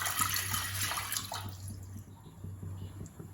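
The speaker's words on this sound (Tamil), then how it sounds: "நான் வந்து இதில் தண்ணி ஊற்றிடுறேன்." Water pours into a cooking pot on a stove for sweet corn soup, a soft, steady splashing that fades partway through to quieter trickling, close by with no talk.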